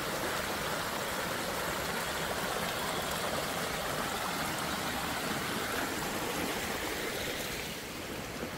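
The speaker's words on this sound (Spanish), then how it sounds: "aquí está el agua que sale de la propiedad" Water flowing out of a ranch property rushes steadily in a continuous, full hiss with no breaks or voices, like a lively stream close to the listener.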